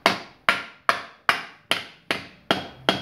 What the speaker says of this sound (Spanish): Ahí voy, martillo de madera.